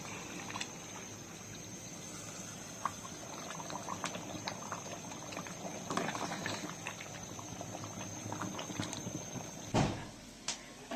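Beef curry with potatoes and broth bubbling in a pot on a stovetop, a soft, continuous simmer with scattered small pops and clinks, fairly faint and close, with a louder clatter near the end.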